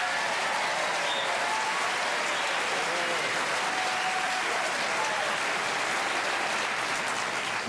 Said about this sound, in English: Boy, do I know how to get cheap applause?